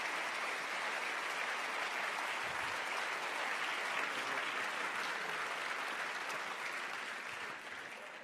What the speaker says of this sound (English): Can I get one round of applause once more for all the initiatives?